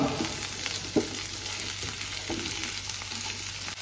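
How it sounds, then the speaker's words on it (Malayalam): Chopped ivy gourd sautéing in oil in a pan, a soft, even sizzle running throughout with a few light stirring knocks, close and without voices. "കോവയ്ക്ക് ഇട്ടിട്ട് നന്നായിട്ട് ഇതൊന്ന് നന്നായിട്ടൊന്ന് വഴറ്റി കൊടുക്കുക"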